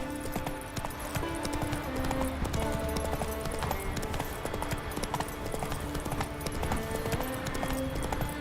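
Roach the horse galloping in The Witcher 3 video game, rapid rhythmic hoofbeats pounding steadily with jingling tack over a game music bed, close and continuous.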